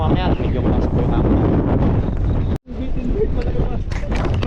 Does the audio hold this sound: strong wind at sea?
yes